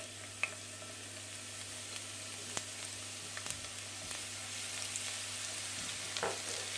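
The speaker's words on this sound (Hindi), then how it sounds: "एक पैन में मैंने ऑयल को गर्म कर लिया था। अब इसमें फ्रेशली चॉप जो लहसुन है वो ऐड करेंगे।" Freshly chopped garlic frying in hot oil in a pan, a faint steady sizzle with a few light clicks and stirring taps, with no voices.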